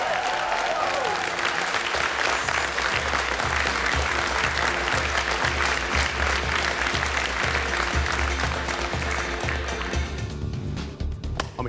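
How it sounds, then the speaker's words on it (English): A studio audience at a MasterChef Australia cooking show gives a loud, sustained round of applause that fills the room steadily before tapering slightly near the end. "Ladies and gentlemen, round of applause."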